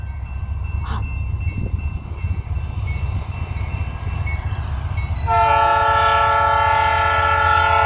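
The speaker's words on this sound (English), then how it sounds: "it almost sounds like a South Shore horn, too" A BNSF intermodal freight train rumbles steadily past at close range, then a loud multi-chime horn blasts and holds over the rolling wagons for the last few seconds.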